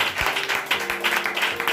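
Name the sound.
congregation applauding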